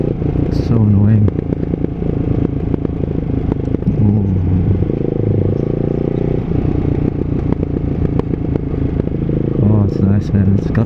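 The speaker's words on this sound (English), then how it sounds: "It's got like this nice little subtle backfires, not backfires, subtle decel pops." Ducati Hyper 698 fitted with a Termignoni full race exhaust runs loud and steady under close wind roar, with light crackling decel pops on the overrun; a voice talks throughout.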